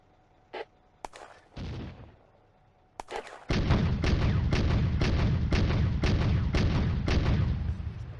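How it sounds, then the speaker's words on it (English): A German Granatwerfer mortar fires in the WWII strategy game Firefight: a few scattered booms, then a rapid run of sharp, loud blasts over a dense rumble of continuous battle. "The Granatwerfer re-engages the infantry on the left flank."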